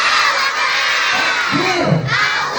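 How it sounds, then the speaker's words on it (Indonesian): A large crowd of children at an Islamic school drama event shouts a loud takbir together in one sustained, rising collective cheer over a noisy hall. "Ustaz ingin semangat kalian terlebih dahulu dengan teriakan takbir"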